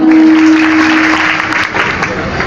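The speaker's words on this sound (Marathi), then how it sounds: "त्यांच्यासाठी जोरदार टाळ्या" A crowd at a kirtan gathering breaks into loud, sustained applause, a dense wash of clapping that fades slightly toward the end, with a steady tonal hum underneath at first.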